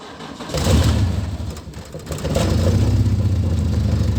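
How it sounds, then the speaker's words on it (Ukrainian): A VAZ 21099 car with a drained battery cranks on a jump starter and then catches. The loud, rough, uneven engine drone is misfiring badly, heard close up with no talk. "Так, поклав пусковий пристрій і попробуємо опять завести її."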